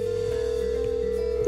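A steady electronic phone tone held for over a second as a call is placed from a mobile phone inside a VW Tiguan Allspace, with a brief louder blip at the end.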